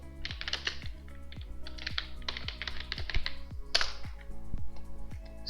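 Terminal command typed on a computer keyboard, with quick bursts of crisp key clicks in uneven runs and short pauses between them, close and fairly quiet, no talking.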